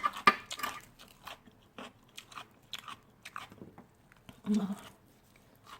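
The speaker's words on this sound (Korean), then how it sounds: "맛있는 소리가 나죠 야채 씹히는 소리가 되게" Crunchy fresh vegetables wrapped with seaweed are bitten and chewed close up, giving a series of crisp, irregular crunches between quiet pauses.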